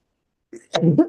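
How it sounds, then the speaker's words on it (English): A single sneeze close up: a short inhaled catch, then a sharp burst with a brief noisy tail. "Oh, I'm about to sneeze."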